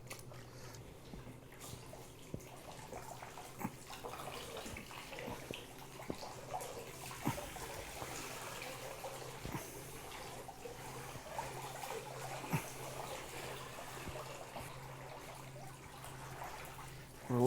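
Water runs and trickles into a lab sink while a wolf pelt is rinsed, a soft continuous wash dotted with small splashes and drips at a moderate, close distance.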